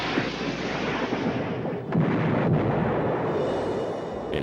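Torpedo explosions from a World War II U-boat attack strike ships, a loud, continuous, rumbling roar with a heavier swell near the middle and no voices.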